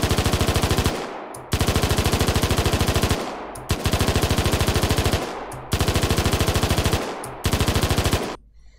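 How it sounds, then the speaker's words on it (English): Rapid automatic weapon fire tested in Unreal Engine at about 650 rounds per minute, an AK-like rate: four loud sustained bursts of tightly spaced shots, each cut off abruptly with a sharp tail, then a final short burst. "That's like an AK fire rate. It's like something faster."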